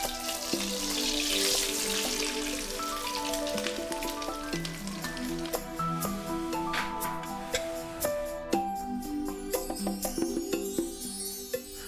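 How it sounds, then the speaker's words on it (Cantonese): Peach shrimp mixed with celery, garlic sprouts and egg sizzle in hot oil in a small Guangdong restaurant. The steady frying hiss is strongest early on and carries on beneath music with clinks and taps. "熱油煎到兩面金黃，令桃蝦嘅鮮甜同雞蛋嘅焦香融為一體"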